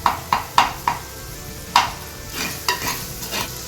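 Onions sautéing in a hot pan with salt, stirred in a series of sharp spoon scrapes and clatters over a soft steady sizzle, close and fairly loud, with no talking.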